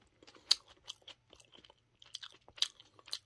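Chewing on a spicy hamburger packed with cabbage, a Songtan-style burger: close, crunchy bites and moist mastication come in irregular bursts with short pauses and no talking.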